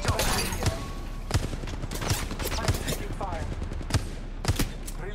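Gunfire in Apex Legends Mobile, a video game, with sharp separate shots spaced through the stretch over steady background game noise, fairly quiet and mid-distance.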